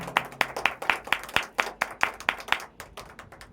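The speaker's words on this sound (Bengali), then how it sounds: "সকলেই করতালি" Audience at a felicitation ceremony honouring artists claps in a steady burst of sharp, distinct hand claps, fairly close and tapering off at the end, with no talking.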